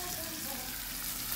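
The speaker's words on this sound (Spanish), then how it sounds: "Y estamos friendo lo que es chile dulce y cebolla." Sweet peppers and onion frying in a pan, a steady close sizzle with faint stirring, continuous and even throughout, no voices.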